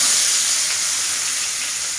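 Ilish fish pieces go into hot oil in a pan, and a strong, steady sizzling hiss fills the whole moment with no talking.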